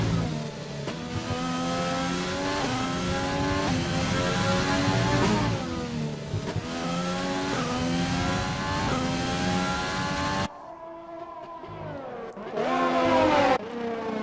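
Formula One race cars in the Shake N Bake F1 racing video game roar loudly and continuously, engines rising and falling in pitch through gear changes, with a short drop to quieter engine noise before the roar returns.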